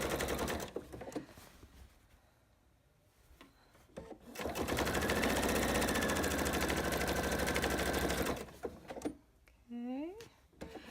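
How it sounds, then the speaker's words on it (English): A sewing machine stitches quilt binding with a quarter-inch seam in quick, steady runs of several seconds, stopping and starting, with a voice talking between bursts and a brief squeaky sliding sound near the end. "this is pretty much straightforward 1/4 inch sewing all the way along"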